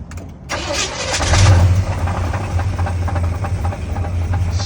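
A 1972 Chevrolet Caprice cranks and fires on a cold start after sitting six months, the engine catching and then running with a loud, rough, steady rumble close by.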